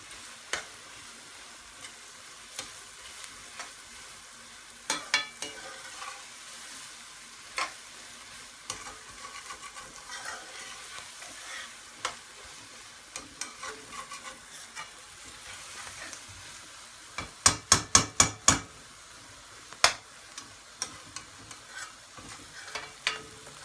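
Vegetables for a curry frying in a pan, with a steady low sizzle broken by occasional scraping stirs and a quick burst of sharp clacks near the end.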